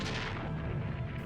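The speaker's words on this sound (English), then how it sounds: "Cannons like these were small but effective." Light breech-loading falconet cannon fire, a dense booming blast filling the short moment with a heavy, sustained rumble and no talk.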